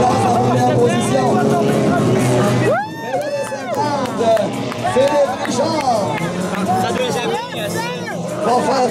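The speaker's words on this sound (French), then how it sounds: "on entend la foule crier" A crowd shouting and cheering at a show jumping competition in Ireland for riders aged 12 to 16, loud and continuous, rising in a surge of voices midway, mixed with commentary.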